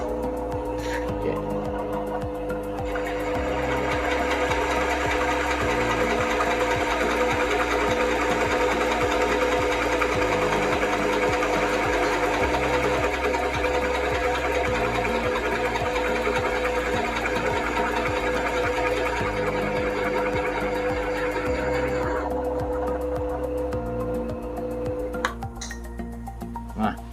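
A Krisbow 16 mm bench drill runs at about 200 RPM while boring into wood, giving a steady mechanical hum with a pulsing motor rhythm for over twenty seconds, with light clicks as it starts up and winds down.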